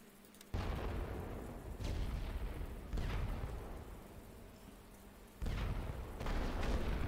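Mortar rounds landing in The Great War: Western Front, a World War I strategy game on the German Empire campaign: deep booming impacts about every second or two, repeated and loud, over a continuous low rumble with no talk.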